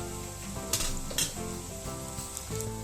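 Cabbage manchurian balls deep-fry in oil over a low flame, a steady close sizzle with a few sharp clinks of a utensil against the pan.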